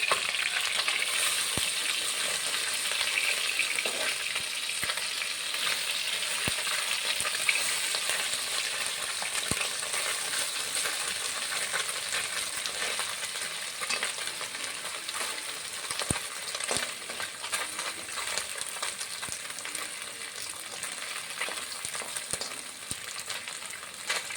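Small mourala fish frying in hot oil in a pan, a steady dense sizzle that runs throughout with soft scraping and stirring clicks scattered through it, close and continuous.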